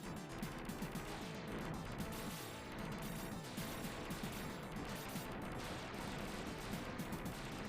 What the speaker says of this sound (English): the machine gun, like, mows through them pretty quickly